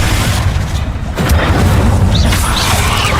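Confringo fire spell blast in Hogwarts Legacy, a loud, deep, rumbling boom that fills the whole clip as one continuous fiery burst of noise.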